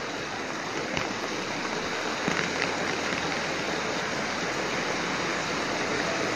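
Heavy rain pouring steadily outdoors, a dense, loud, unbroken hiss with a few faint knocks, no voices.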